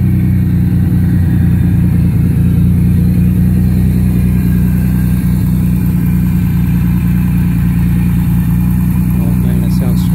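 A custom car's engine runs loud and close, a heavy low throbbing exhaust note holding steady for ten seconds with slight rev variations and no clear talk over it.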